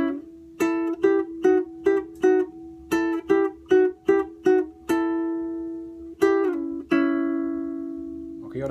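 Guitar picking a phrase of an Ecuadorian albazo, a run of distinct plucked notes in a quick rhythm, then a pause and a few longer ringing notes, close and clear with no talk.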